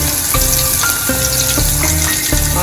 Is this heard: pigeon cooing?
no